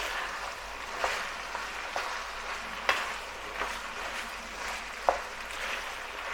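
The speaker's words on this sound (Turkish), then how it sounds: "Yani kendi yağında et kızarmaya başladı" Beef and peppers sizzle in their own fat in a pan, a steady close crackle with a few light clicks of stirring, no talk.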